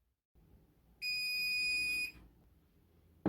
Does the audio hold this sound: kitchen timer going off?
yes